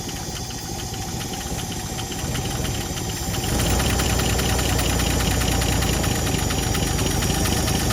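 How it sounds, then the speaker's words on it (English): The V8 engine of a 1958 Chevy Delray idles close by with a steady, lumpy rumble that grows louder and fuller partway through, running without pause. "She's idling."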